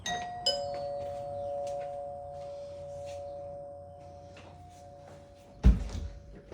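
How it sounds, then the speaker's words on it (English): A house doorbell gives one long, delayed ding that rings steadily for about five seconds in a quiet room, then ends with a loud thump. "I forgot to do the doorbell on the second house."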